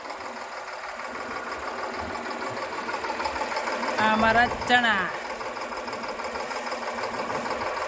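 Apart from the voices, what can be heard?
tractor engine running while sowing chickpeas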